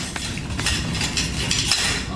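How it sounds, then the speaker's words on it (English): Light metallic clinks and taps of a whisk against a pot with melting low-fat butter spread, repeating steadily over a soft background hiss. "You just get a whisk here"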